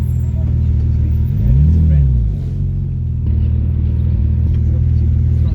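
A Porsche GT3 sports car accelerates past on the road, its engine note swelling and sweeping in pitch as it passes close by, then easing back into a steady traffic rumble.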